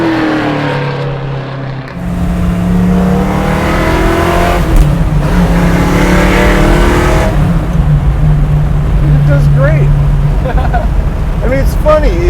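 A 1965 Mustang coupe garage-built hot rod with Black Widow exhausts idling loudly, then revving in rising and falling sweeps, the engine close by and steady, with people talking over it.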